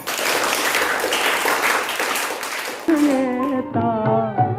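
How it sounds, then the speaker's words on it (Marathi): Applause from a crowd at a school farewell ceremony rolls as dense, steady clapping for about three seconds, then gives way to singing. "आमच्या आंबेडकर साठी जोरदार टाळ्या होऊ द्या"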